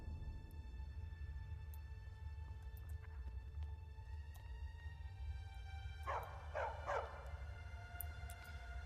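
Barbas the dog in Skyrim gives a quick cluster of three or four barks partway through, faint and distant over a steady low hum and soft game ambience.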